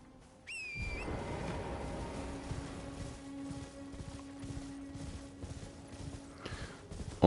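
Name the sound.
horse hooves galloping in video game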